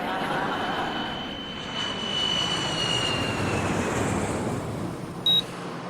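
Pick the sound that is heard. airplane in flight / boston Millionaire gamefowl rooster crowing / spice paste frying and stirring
airplane in flight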